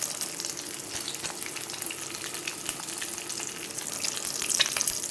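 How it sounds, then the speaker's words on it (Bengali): Eggs frying in mustard oil in a wok, a dense, even hiss of close sizzling with faint crackles throughout and no voices. "দিয়ে ডিমটা ভালো করে আমি ভেজে নেবো, মানে ঝুড়ি ঝুড়ি করে নেবো"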